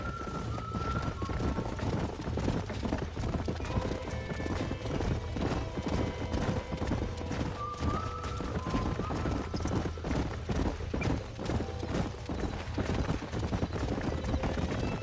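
Horse hooves clip-clop steadily in Red Dead Redemption, with a continuous rhythmic trotting close by, occasional whinnies, and a faint voice now and then.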